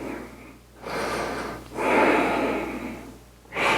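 Slow, deep breaths drawn in and let out during a standing left quad stretch in a power yoga class, three broad airy swells close to the mic with quiet pauses between them.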